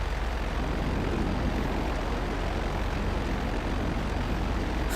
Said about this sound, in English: I just hear an engine